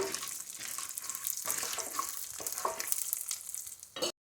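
Mustard-type tempering seeds, chana dal and peeled peanuts frying in hot oil for semiya upma, a steady close sizzle with stirring scrapes throughout, ending abruptly.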